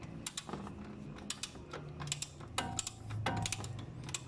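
A ratchet or wrench clicks and rattles as a bolt comes off a Hyundai Eon alternator. The sharp mechanical ticks are close and irregular over a steady background.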